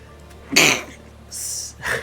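A close, loud sneeze bursts out abruptly, followed by a short hissy breath and another sharp exhale, heard alone.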